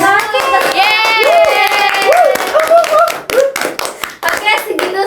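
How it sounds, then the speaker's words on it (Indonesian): Brief bursts of hand clapping from a small group mix with lively talking voices in a podcast setting, loud and close, clapping scattered between speech. "Tepuk tangan kita."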